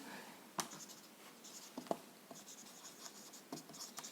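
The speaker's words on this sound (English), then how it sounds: "So I'll just write it over here, lead bromide" Marker or chalk strokes on a board while labelling lead bromide in a chemistry lesson, a few faint scratchy squeaks and taps spread across several seconds, fairly quiet with no talking.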